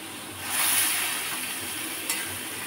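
Pieces of ash gourd sizzle in a frying pan while being stirred, a close, steady hiss that swells briefly near the start, with one faint scrape partway through and no voices.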